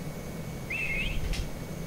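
A short rising-then-wavering whistle sounds once in a castle scene from the video game Ogre Battle 64, clear but brief over a steady low background hum.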